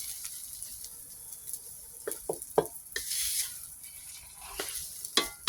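Shallots fry gently over low heat for a Thai-style crispy omelette, giving a quiet bed of sizzle broken by scattered spatters and stirring clicks of a utensil against the pan.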